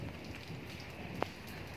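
Steady rain falling in Murree, an even soft hiss of drops on surfaces with one brief sharp tap, no voices.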